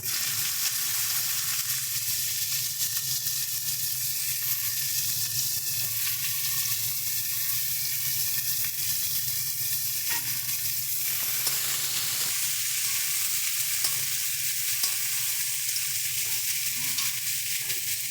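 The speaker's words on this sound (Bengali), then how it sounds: "প্রথমে আলুটা দিয়ে দেবো কেটে রাখা তারপরে কাঁকরোলটা দিয়ে দিচ্ছি" Cut potatoes and teasel gourd fry in oil in a pan, making a loud, continuous sizzle with occasional stirring scrapes.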